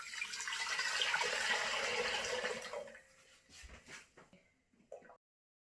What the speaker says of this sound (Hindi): तो मैं पानी ऐड करती हूँ।